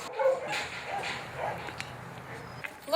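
A five-year-old female pit bull gives a few short, fairly close barks and yips over a low background murmur.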